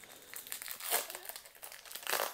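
Trading card booster packs being torn open and their foil wrappers crinkled at close range, a run of soft rustling crackles with a couple of louder crinkly bursts, no talking.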